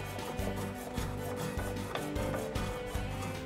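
A wooden designer chair is finished by hand, with rhythmic rasping strokes repeating about every half second, close and moderately loud, and no voices.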